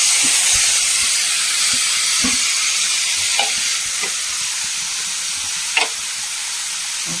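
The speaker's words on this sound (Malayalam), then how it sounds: "ഇളക്കി കൊടുക്കാം നമ്മുടെ അമരിപ്പയറിനിട്ട് കൊടുക്കാം" Broad beans being stirred in a curry pan for a jackfruit seed and dry prawn curry, giving a steady close sizzle and hiss with light scraping strokes scattered through, no talking.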